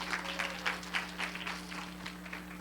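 An audience at a lecture on trisomy 21 breaks into applause, a brief, dense burst of many hands clapping steadily in a hall.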